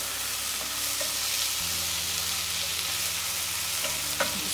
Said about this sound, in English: Just saute that for a minute or two.